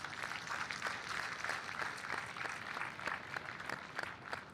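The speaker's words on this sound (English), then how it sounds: "So a round of applause for them as well, if you wouldn't mind." A crowd at an all-star baseball game claps in sustained applause, a dense, even patter of many hands heard from some distance, with no voices standing out.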